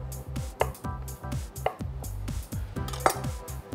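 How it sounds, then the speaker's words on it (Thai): A knife slices orange mushrooms into thin pieces in a Thai cooking-show kitchen, tapping the board in a quick, uneven run of close, crisp strikes with no talking. "เรามีเห็ดชนิดอื่นๆด้วยวันนี้มีเห็ดออเรนจินะครับก็จะหั่นเป็นแผ่นบางๆ"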